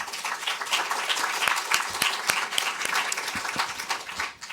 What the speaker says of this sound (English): I want us to give our panelists who have been absolutely stellar a really warm round of applause.